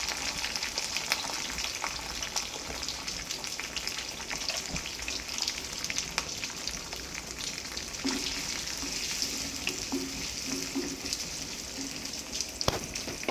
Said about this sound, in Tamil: ஸோ வரமிளகா நல்லா பொரிஞ்சுன்னா கருவேப்பிலை, நல்லா பொரிஞ்சு இந்த மாதிரி வந்தோன்னா வெங்காயம்